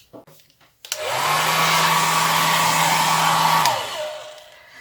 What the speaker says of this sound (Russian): Вот я помогла побыстрее высохнуть квилту с помощью фена, включила его на слабый режим